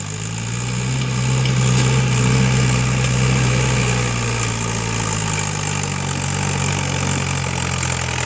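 A vehicle's engine idles close by, a loud, steady low rumble with a constant hum that holds without breaks throughout.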